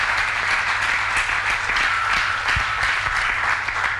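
A church congregation applauds together during a worship service, giving steady, dense clapping that fills the space at an even level from start to finish with no voices rising above it.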